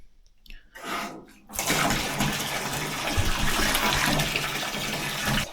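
Warm water from a sauna hose gushes into a tank at a cabin, starting after a few faint taps and splashes and then running steadily as a loud, continuous hollow rush.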